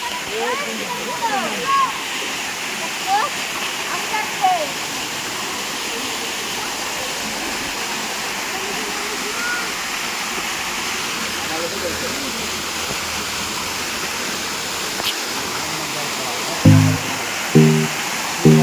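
A waterfall in Meghalaya keeps up a steady, broad rushing roar throughout, with people talking faintly over it and a few thumps near the end.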